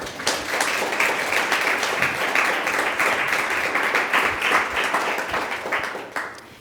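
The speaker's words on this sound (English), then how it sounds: "Big round of applause, please." An audience at a futures studio policy event claps in a sustained round of applause, dense and steady for about six seconds before tapering off at the end.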